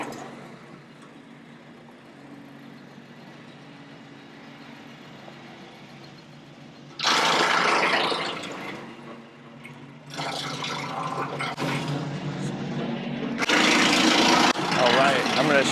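A chainsaw cuts storm-damaged trees outdoors, with loud bursts of high-pitched revving and a choppy mid-section over a quieter steady hum, close by and varying in intensity.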